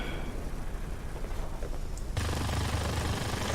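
Aircraft machine guns fire in World of Warplanes, a dense sustained burst that starts abruptly partway through and continues loud to the end over steady engine drone.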